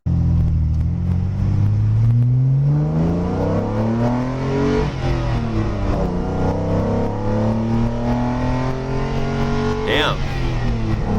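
A 1959 Mercedes 300 SL Gullwing accelerates hard, its engine note climbing through repeated gear changes in a loud, close, continuous rumble, with a voice talking over it.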